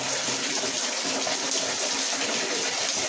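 Water pours steadily in a continuous splashing stream, as during a slow gentle rinse over the back of the head in a hair wash after a hair transplant, close and even, with no speech.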